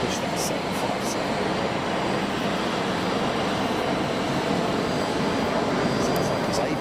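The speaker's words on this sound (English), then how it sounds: "Sounds like his APU's running, that's for sure." A Boeing 757 auxiliary power unit runs steadily on the ramp at King County International Airport, giving a loud, unbroken broadband roar with no pauses across the whole stretch.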